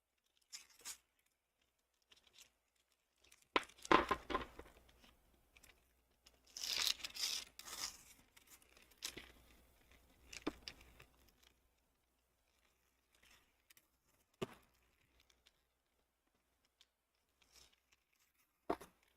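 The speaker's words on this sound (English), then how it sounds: "This is my favorite part of Stable Stick, is peeling this out. It's very satisfying. I love the sound that it makes." Stable Stick embroidery stabilizer paper is peeled out of an embroidery hoop in sporadic crisp tearing and crinkling bursts, loud clusters between quiet gaps, close up with no talking.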